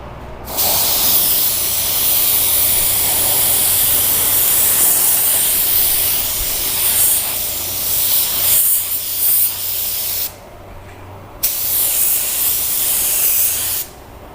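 A budget LVLP automotive paint gun laying down a coat of paint on a car panel, giving a loud, steady airy hiss that runs in long passes, with two brief gaps where the trigger is released.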